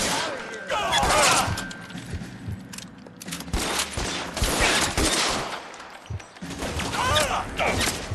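Rapid SMG gunfire in L.A. Noire Remastered, bursts of shots crackling through a shootout with other weapons and commotion, loud and dense throughout, with a voice speaking over it.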